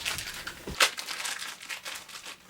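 Plastic wrapping crinkles and crackles as it is peeled off a new cable during an unboxing, a run of close, soft rustles with one sharper crunch partway through.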